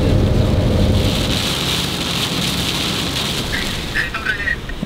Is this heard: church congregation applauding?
no